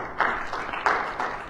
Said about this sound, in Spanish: Con un aplauso al Señor